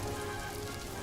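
Heavy torrential rain pours down in a dense, steady, close hiss of drops hitting surfaces, with no voices.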